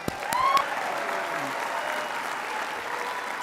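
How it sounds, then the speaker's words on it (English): A convention audience at an opening general session claps in a broad, steady wash that holds evenly from start to finish, with a few sharp knocks at the very beginning. "Let's give him a big round of applause"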